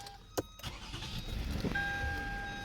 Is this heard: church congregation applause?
no